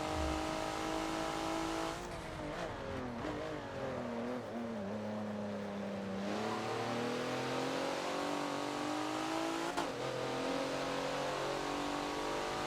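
A race car engine at full throttle around Hockenheimring in the Forza racing game, revving loud and steady with rising and falling pitch through gear changes, plus a brief sharp shift burst near the end.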